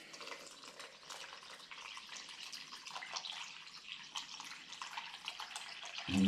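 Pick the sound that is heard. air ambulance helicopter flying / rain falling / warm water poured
warm water poured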